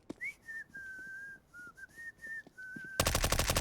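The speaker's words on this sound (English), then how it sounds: "He's just whistling down his mic." A player in a Counter-Strike match on Dust2 whistles a wavering tune into his microphone, close and thin over quiet game sounds, before a loud burst of rapid gunfire cuts in at the end.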